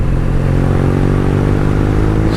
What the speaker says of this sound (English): That is factory exhaust.